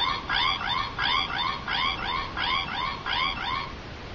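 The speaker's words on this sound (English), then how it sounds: "but you will get the morphing sound like this." A Power Rangers Dino Thunder morpher toy gives off its electronic morphing sound: a repeating, rapid chirping pattern in about eight even bursts, close and clear with no talk.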